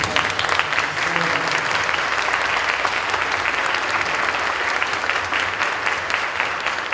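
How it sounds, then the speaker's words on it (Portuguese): Audience at a communication-week lecture with a blogger and advertiser claps in a sustained, dense round of applause, loud and even throughout, with faint murmuring beneath. "agradecer também por uma salva de palmas"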